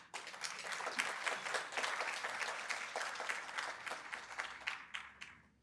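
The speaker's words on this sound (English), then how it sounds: "and that's worth applause." Audience applause at a violence prevention celebration event, a steady wash of many hands clapping that swells quickly, holds for several seconds and then tapers off near the end.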